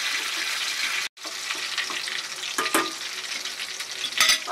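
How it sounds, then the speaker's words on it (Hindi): Oil sizzles and crackles steadily as onions fry in a pan, with a brief break and a few stirring clatters, close and alone. "इसको थोड़ा सा और पकने देंगे अपनी अनियन को"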